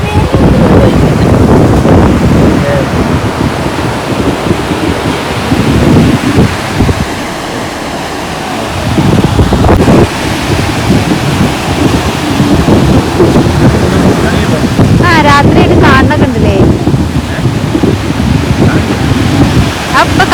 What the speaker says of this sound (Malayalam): തിരമാല